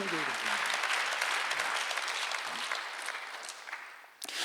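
Church congregation at a Sunday worship service claps in a broad, steady wash of applause that gradually thins and fades toward the end, a voice faintly present beneath.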